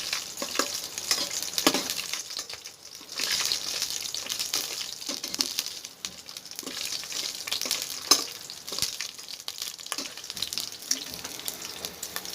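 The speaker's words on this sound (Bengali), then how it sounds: "তেল দেওয়ার কিছুক্ষণ পর যখন তেলে বুদবুদ উঠবে তখন পাঁপড় ছেড়ে দিতে হবে" Papad frying in hot oil in a home kitchen, a steady bright sizzle and crackle with occasional stirring scrapes, close and continuous with no talk.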